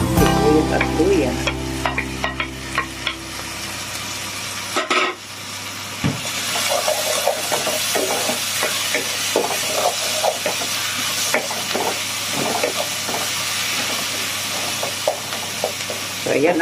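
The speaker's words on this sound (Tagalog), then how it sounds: "lagay po naman natin ang ating bawang kung mag-brown at sibuyas at luya." Garlic, onion and ginger fry in a pan for squid adobo, a loud continuous sizzle with repeated scraping stirs, while a low hum fades out at the start.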